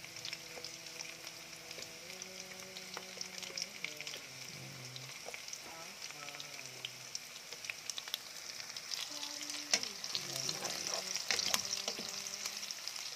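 Onions sizzle steadily in a hot pan for ginataang galunggong, a quiet, continuous frying crackle with occasional stirring clinks and scrapes, while faint tonal background music plays underneath.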